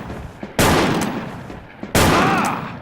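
Two loud, close gun bursts from the online shooter Wolfteam, each a sharp crack with a decaying tail, about a second apart.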